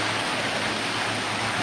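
Heavy rain falls as a steady, dense broadband hiss, constant and even throughout, moderately loud with no voices.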